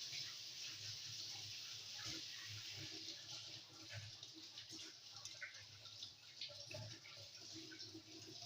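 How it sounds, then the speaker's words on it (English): Running tap water splashes over hands being washed at a sink during pizza dough preparation, a faint steady stream with small irregular splashes and drips, no voices. "Then I go on and wash my hands again."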